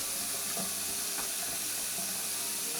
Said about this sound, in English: Cut the water back on.